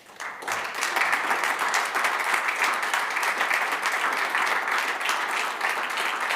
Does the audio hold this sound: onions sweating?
no